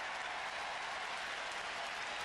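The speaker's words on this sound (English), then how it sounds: "see the fan getting an applause and" Dense, steady applause from a large crowd, somewhat distant, sustained throughout without a break.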